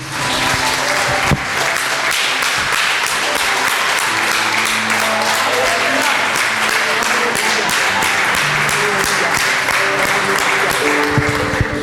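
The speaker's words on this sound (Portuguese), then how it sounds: "Pode aplaudir o nosso Senhor Jesus Cristo, igreja." Church congregation applauding during a worship service, a full, continuous burst of clapping from many hands with sharper individual claps standing out, while faint sustained tones hum underneath.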